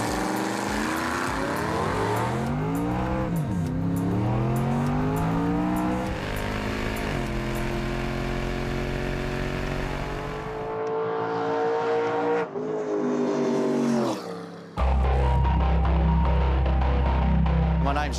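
Loud drag race car engine revving hard on its first run after eleven years since being built, the pitch sweeping up and down through repeated throttle blips, then cutting out briefly before a deep idle rumble returns.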